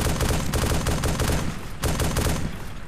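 Rapid bursts of automatic gunfire and overlapping shots fill a realistic modern war video game firefight, loud and continuous with brief dips in intensity.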